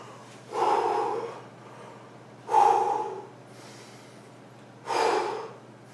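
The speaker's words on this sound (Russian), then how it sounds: "Сейчас подышу." A person breathing heavily and exhaustedly after a circuit training workout: three loud, drawn-out gasping exhales, each lasting about a second, separated by quieter pauses, with no speech.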